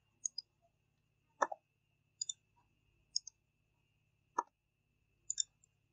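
Isolated computer mouse clicks, sharp and close, coming singly or in quick pairs with pauses in between against near silence, with no talk.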